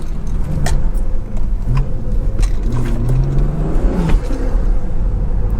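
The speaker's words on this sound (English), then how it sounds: "Y'all are hearing that intake?" A BMW's engine intake rumbles and surges as the car is revved, deep low throaty pulses rising and falling close by, with light rattles and whirring over a constant heavy drone.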